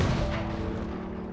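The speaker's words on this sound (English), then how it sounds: "We're going to shoot it with a cannon and do a bunch of other stuff with it." A cannon in the BeamNG driving game fires a point-blank shot, a loud, dense boom that fills the moment and slowly decays with no talk over it.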